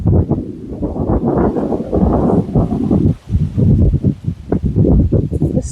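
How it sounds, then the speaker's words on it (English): Wind gusts buffet a garden, rustling plants with a rough, continuous roar close to the microphone, briefly easing before surging again. "It's so nice and windy."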